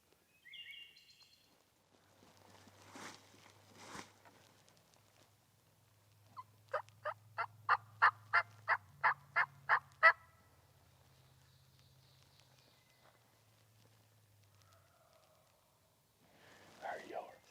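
A wild turkey gobbler calls outdoors with a fast, rhythmic series of sharp notes in one burst, moderately close, and soft voices and other faint sounds come before and after it.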